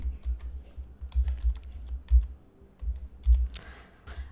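Text is typed on a computer keyboard while working in Canva, a close run of soft irregular key taps with a few heavier strokes, heard alone.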